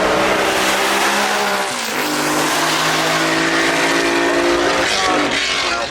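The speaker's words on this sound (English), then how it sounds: "Just behind the wheel of a Formula One car." Maserati 250F classic Formula One car driving a hill climb at Goodwood Festival of Speed, its engine roaring loud and close with steady harmonic drone, pitch dipping briefly as it shifts gear before climbing again.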